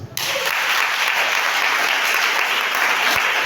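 A church congregation bursts into sustained, loud applause that holds steady from start to finish, with a faint murmur of voices underneath.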